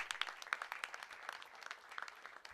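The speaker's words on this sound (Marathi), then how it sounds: "जोरदार टाळ्या वाजवूया आपण." Faint, sparse clapping at a cricket tournament prize distribution, individual hand claps audible as distinct irregular slaps from a small, distant crowd rather than a full roar.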